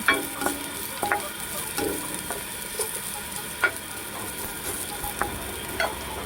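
Crushed garlic and a small piece of ginger fry in hot oil in a pan, a steady close sizzle with occasional stirring clicks and scrapes, no voices.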